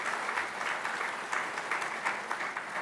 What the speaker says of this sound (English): Yeah, I think that's deserving of an applause.